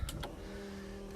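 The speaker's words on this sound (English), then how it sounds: "That fuel pump." A fuel pump priming in a twin turbo LSX-swapped 240SX project car gives a brief electric whir with a steady hum, preceded by two quick clicks, close and fairly quiet.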